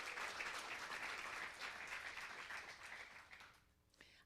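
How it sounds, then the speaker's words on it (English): Audience at a fellowship summit applauding the fellows, a full sustained burst of clapping that fades out toward the end, leaving a faint voice beginning. "So one more applause for our fellows for just that commitment."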